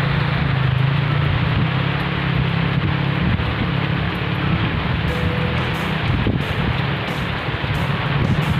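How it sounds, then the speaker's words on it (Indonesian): Heavy rain pours steadily in a mountain forest on Gunung Malabar, a dense, loud, continuous hiss with a low rumble beneath and no voices. "dan ternyata sekarang turun hujan, lumayan deras hujannya"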